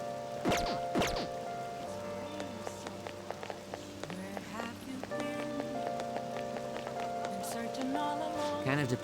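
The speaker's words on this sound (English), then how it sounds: "this rain is so annoying" Steady rain falling in Persona 5 Royal, a continuous wash of patter with game music and effects layered over it, heard close and unbroken for the whole stretch.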